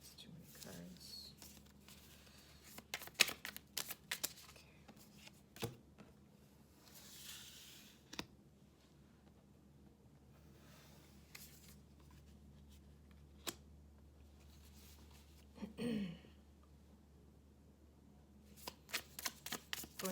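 A deck of cards is shuffled in soft, scattered riffles and flicks, quiet and close, while a person talks in between.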